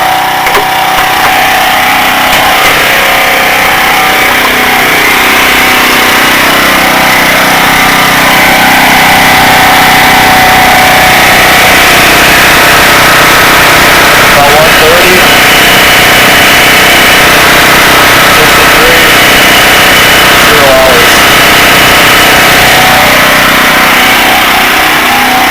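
A portable gas generator runs continuously at close range, a loud, steady mid-pitched engine drone with no change in rhythm from start to finish.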